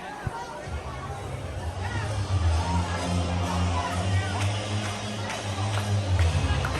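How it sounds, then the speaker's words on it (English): A wrestling arena crowd at a Maryland Championship Wrestling show buzzes with steady, dense chatter and murmuring, a continuous hubbub that stays loud throughout with a low rumble beneath. "This crowd, a buzz."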